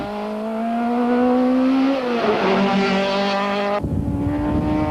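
An old-generation Volkswagen Golf Synchro rally car racing in the 1992 Tour de Total, its engine loud and close, revving up steadily in pitch, dropping briefly at gear changes, then pulling hard again.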